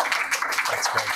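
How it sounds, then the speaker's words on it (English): Brief burst of audience applause for a speaker at a lecture, dense hand clapping heard close and fairly loud over a short span. "So if you join me in a round of applause for Dr."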